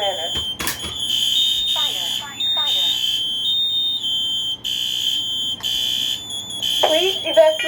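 A smoke alarm beeps in repeated bursts alongside a synthesized voice announcing a fire alarm in a bedroom and urging evacuation, the piercing tones and spoken warning overlapping loudly and continuously.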